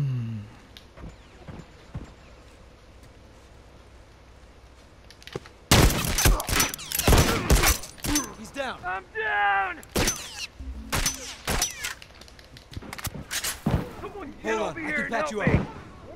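Gunfire in The Last of Us Remastered Survivors mode: after a quiet start, a sudden burst of rapid, loud shots with sharp repeated cracks and bangs, mixed with shouted voices and in-game noise, continuing in clusters.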